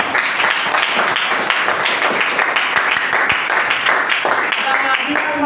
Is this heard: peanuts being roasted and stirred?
no